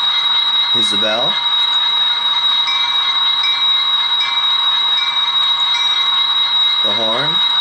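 The onboard sound of a Rapido Metra F59PH model locomotive rings its bell in a continuous, rapid metallic clanging over the running diesel idle, close and loud, with a short spoken word at the start and end.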